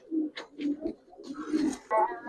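Army pigeons coo in short, soft, low bursts nearby, mixed with brief higher calls; the sound is quiet and intermittent.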